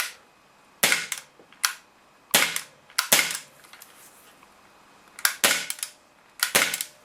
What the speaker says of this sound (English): But the blowback action is the best part of this air pistol.